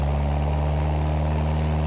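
Cessna 172 single-engine propeller aircraft running at full power on the runway before a takeoff roll, a loud, steady, droning engine hum with strong low tones, continuous and close with no voices.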